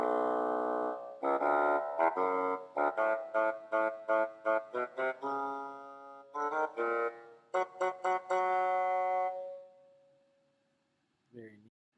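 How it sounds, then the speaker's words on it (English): A bassoon plays the grandfather theme from Peter and the Wolf, a reedy, low melody of detached staccato notes in bouncing phrases that ends on a long held tone, followed by a brief voice. "The bassoon sounds like this."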